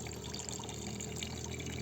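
Water pours steadily from a water can at a roadside drinking stand, a soft continuous splash under faint outdoor background noise.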